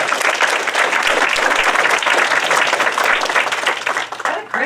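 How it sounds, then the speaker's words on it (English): An audience at a product meetup applauds to welcome a speaker onto the stage, dense continuous clapping from a large crowd that fades near the end. "let's give Amy Jo Kim a warm welcome."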